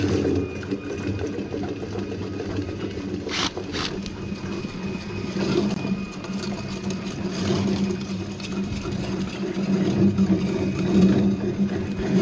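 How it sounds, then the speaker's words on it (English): A drain cleaning cable spins inside a buried drainage line, giving a steady mechanical whirring and rattling hum that continues evenly at moderate loudness, with no voices. "I can hear that cable getting closer and closer to us."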